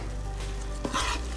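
Salt being stirred into chicken pulao in a pot, with a soft scraping stir and faint sizzle from the frying mixture, steady and close over a short moment.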